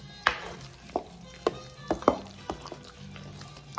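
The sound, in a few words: mixing pasteles filling in a bowl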